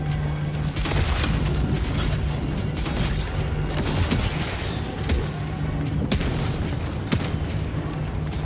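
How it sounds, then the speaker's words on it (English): Mortar strikes in the shooter Helldivers 2, a continuous dense rumble of booms and blasts with sharper cracks scattered through, loud and chaotic amid game noise. "This fucking mortar is killing me."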